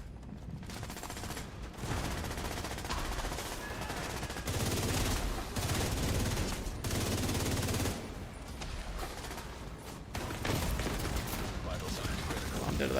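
Gunfire from a weapon in the video game The Division 2 comes in dense, rattling bursts with brief pauses between volleys, loud and close throughout.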